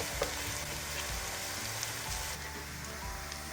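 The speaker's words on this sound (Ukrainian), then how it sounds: "Цибулька наша починає підсмажуватися." Grated onion frying in a pan, a close, even sizzle with faint crackles and no voices.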